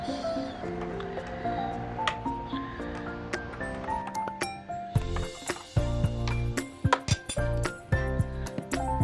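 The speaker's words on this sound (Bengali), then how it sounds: "এরপর একটু ভালো করে চামচের সাহায্যে গুলিয়ে নেবো" A spoon stirring milky malai coffee in a cup, making repeated light clinks against the sides that grow quicker and denser in the second half.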